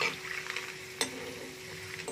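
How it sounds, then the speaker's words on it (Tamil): Onion paniyaram frying in oil, a steady soft sizzle with a faint hum, broken by a light clink of a utensil against the pan midway, close and quiet with no talk. "இப்ப பாத்தீங்கன்னா நம்மளுடைய வெங்காய பணியாரம் கரெக்டா பொரிஞ்சிருக்கு"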